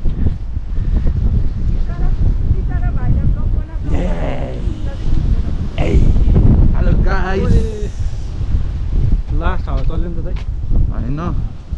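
Strong gusty wind buffets the microphone on a mountain hike in the Blue Mountains near Katoomba, with light rain and small hail, roaring steadily throughout while people talk over it.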